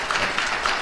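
Church congregation at a Baptist Sunday worship service applauding, a dense, steady patter of many hands clapping at moderate volume, with no speech over it.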